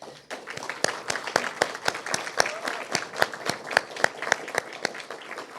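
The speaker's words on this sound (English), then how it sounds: "we'd like to give you a round of applause." A small group applauding at a monthly society meeting, with distinct, fairly regular hand claps ringing out near and clear, without voices.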